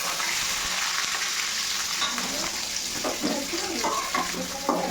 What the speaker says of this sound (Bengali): এখন আমি হচ্ছে যে ডিমগুলো ভেজে নিব